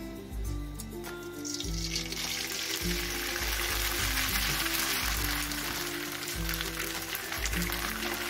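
Steady crackling sizzle of rice vermicelli frying in hot oil, continuous and close, with low rhythmic bumps underneath and no talking.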